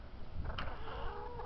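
A neighbour's hen in a presbytery garden in November gives a brief, faint cluck against low background noise, heard alone over a moment of quiet outdoor sound.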